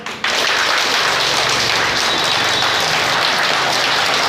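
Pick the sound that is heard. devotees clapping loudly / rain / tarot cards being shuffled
devotees clapping loudly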